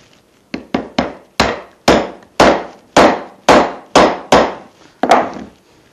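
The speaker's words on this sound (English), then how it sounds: "we're going to take a hammer, we're going to tap that in." A hammer taps a lathe spur center into wood about a dozen times in a steady, sharp rhythm, each blow loud and close with a short ringing decay.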